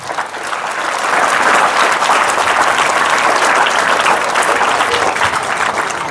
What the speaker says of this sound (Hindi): इनके लिए आप जोरदार तालियां।